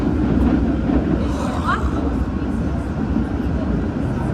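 A passenger train running express between St. Mary's and Coolidge rumbles steadily from inside the car, a dense, constant low roar with a brief higher whine partway through.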